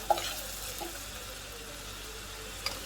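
Basmati rice with a pinch of cinnamon being stirred in a pot with fried onions, giving a steady, quiet sizzle and scraping with a couple of faint clinks.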